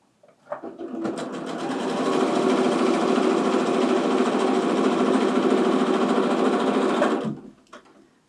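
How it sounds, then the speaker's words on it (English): A sewing machine chain-pieces quarter square triangles in one continuous run, its motor whirring at a steady fast rhythm for about six seconds after a brief start-up, close and alone, then stopping abruptly. "I'm going to go ahead and sew, and I'll do all 4 at one time of one side"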